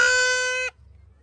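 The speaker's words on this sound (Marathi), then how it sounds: "भोंगा भोंगा रोहित देऊ घेतलाय." A toy horn blown at a crowded Aagri-Koli village fair for Chandika Devi, one loud, steady, buzzy reedy blast lasting under a second before cutting off abruptly, leaving faint background murmur.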